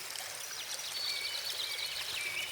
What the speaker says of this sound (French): Il n'y a plus que vous et le ruissellement cajoleur de la rivière.